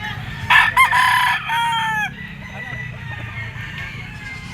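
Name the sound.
Allen Roundhead rooster crowing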